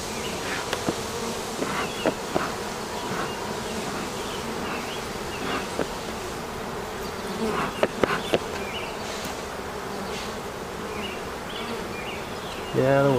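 Honeybees buzz steadily around an open hive during a swarm and nuc inspection, a continuous close hum with occasional knocks and handling clicks of frames.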